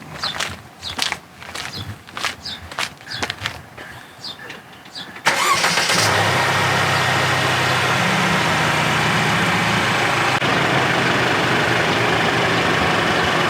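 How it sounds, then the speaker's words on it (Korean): Petrol 2300 engine of a Mercedes-Benz E-Class being started after a few seconds of light clatter, then idling steadily, a loud, even, close-up hum with no talk. "벤츠 E클래스 이 2300 휘발유 모델의 엔진 그냥 공회전 음을 들어보니까 확실히 제가 기대했던 것보다 시끄럽습니다"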